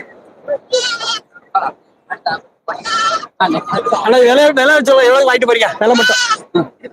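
Goats bleating at a busy Tamil livestock market, with several wavering calls rising and falling among steady talk from traders nearby.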